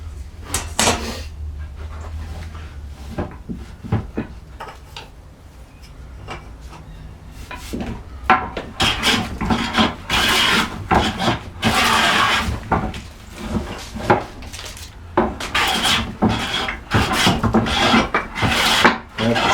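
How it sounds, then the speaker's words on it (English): A hand plane strokes along a wooden board taking full-length shavings, a series of close, loud rasping swishes repeating in an uneven rhythm, with scraping and knocks of wood between passes. "So you see what I'm trying to do there is take full length shavings"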